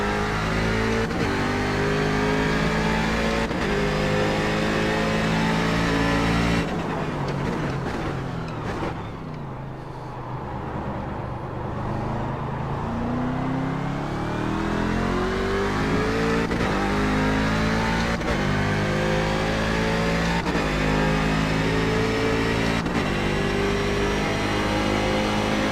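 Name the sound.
Daytona Prototype race car engine, onboard at Montreal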